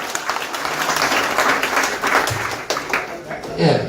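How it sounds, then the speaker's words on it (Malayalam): Audience applause at a live interactive session, a broad wash of clapping from many hands that swells and dips over a few seconds, with some voices audible underneath. "നിങ്ങൾക്ക് വേണ്ടി നല്ലൊരു ക്ലാപ്പ് അടിക്കാം."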